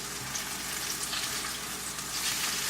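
Tilapia fillets fry in a hot pan, a steady dense sizzle and crackle filling the whole stretch at an even, close level with no voices.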